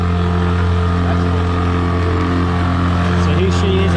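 A 9.9 horsepower Mercury outboard motor drones at full throttle, pushing a heavy boat against the current with a loud, steady engine hum and water rush throughout.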